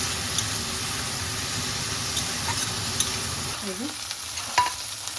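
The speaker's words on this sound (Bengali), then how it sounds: "হলুদ দিয়ে ভালোভাবে শাকটাকে বেগুনটাকে ভেজে নিচ্ছি।" Gimi greens and eggplant frying with turmeric in a pan give a steady, close sizzle, with a few small utensil clinks near the end.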